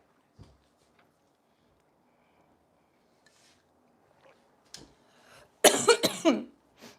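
After near silence with a few faint taps, a person gives a short burst of harsh coughs close by, then one small sound at the end.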